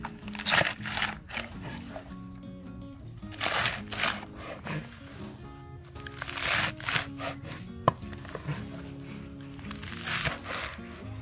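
Plant material being chopped by hand to make natural farming fertilizer (FPJ), with repeated sharp chopping strikes in irregular bursts, close and fairly loud, along with some crinkling and handling noise.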